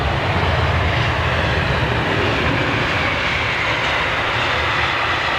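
An airliner lands at Heathrow with derated reverse thrust, producing a loud, steady, broadband engine roar that stays constant throughout, with no talking.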